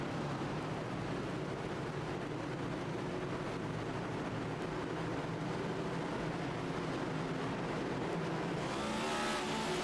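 Stock cars roar away on a green-flag restart at Bristol in iRacing, a dense continuous engine drone from a packed field, steady and loud.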